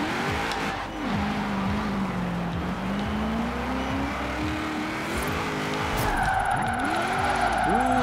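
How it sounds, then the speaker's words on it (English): Ford Capri drifting in the Forza racing game, its engine revving up and down in repeated swoops while skidding tyres hiss steadily beneath, loud and continuous with no talking. "Ooh, it does drift. I'm in 3rd gear."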